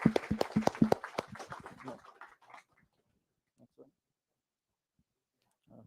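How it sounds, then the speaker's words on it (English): Conference audience applause at .NET Conf Thailand 2022, a short burst of clapping and cheering that quickly fades into near silence, with a few faint voices afterward. "I guess that they deserve a big applause."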